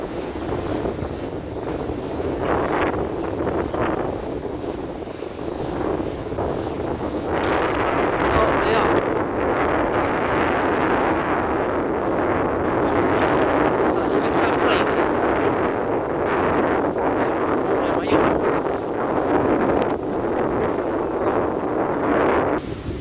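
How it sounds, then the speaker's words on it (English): Steady wind buffets the microphone in a constant low rumble under Brighton Pier on the beach, with gusts swelling and easing throughout; a person talks intermittently underneath. "It's a bit windy under here."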